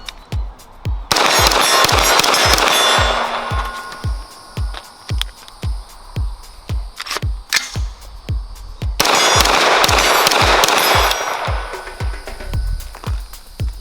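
Rapid rifle shots from a Palmetto State Armory rifle during a cold start drill at a range, sharp loud reports in quick strings with two bursts of dense ringing echo.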